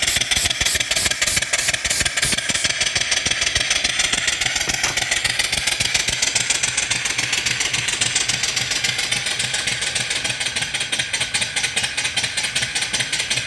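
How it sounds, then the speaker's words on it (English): A brand-new live steam engine runs off a boiler at about 25 pounds of pressure. It chuffs and clatters in a fast, steady, even rhythm, loud and close, with no voices. "Really nice engine. Really runs good."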